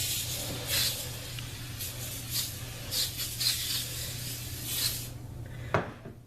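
Foam window cleaner is sprayed onto a sink in several short hissing bursts spread across the moment, with a faint rubbing sound and a small clunk near the end.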